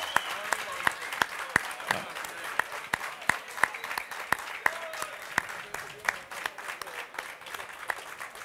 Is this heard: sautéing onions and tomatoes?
no